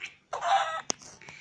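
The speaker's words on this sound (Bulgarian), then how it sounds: "Има кокошко, ще опитомя." Chicken clucking in Minecraft, a few short game-style clucks alone, a sustained mid-pitched cluck followed by a sharp click and a softer trailing note, fairly close and moderately loud.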